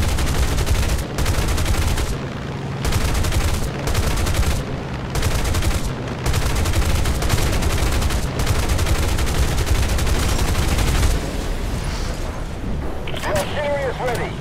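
Rapid bursts of gunfire and artillery from War Thunder, a vehicle combat video game, repeat at close range with brief pauses between loud volleys and then give way to a quieter, thinner stretch near the end.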